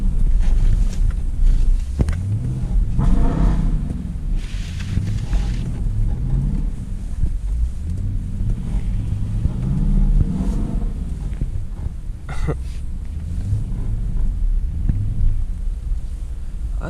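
A loud rear-wheel-drive Dodge Durango R/T engine drifting in snow, heard from inside as a deep rumbling drone that rises and falls with throttle, with wind buffeting the microphone throughout.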